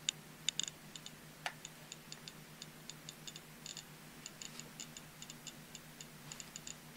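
A RadiaCode 102 Geiger counter ticks irregularly, with sharp faint clicks scattered over a low steady hum, quiet and close, no talk.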